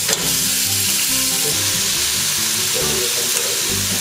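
Boiled lobster searing in a pan with a little garlic oil gives a steady, close broadband sizzle throughout, with faint clinks and shifts of the pan underneath.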